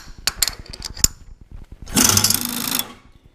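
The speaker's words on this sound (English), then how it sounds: "I'm going in with a 5/8 2-flute end mill, and this is high-speed steel" A 5/8 inch two-flute high-speed steel end mill cuts into a metal ball for an arbor press handle. Rapid close ticking and clicking give way to a loud, harsh, broadband cutting whine for about a second, then stop.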